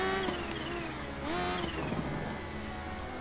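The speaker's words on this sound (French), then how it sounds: "Avec le son très caractéristique de la H2." Kawasaki H2 motorcycle engine in the racing game Ride 3, accelerating with rising whine and shifting gears, a steady loud drone that dips and climbs again as the revs change.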